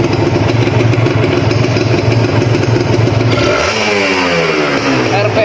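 A Kawasaki Ninja RR motorcycle engine runs loud and close, a steady clattering two-stroke idle that then rises in pitch as the throttle is blipped near the end.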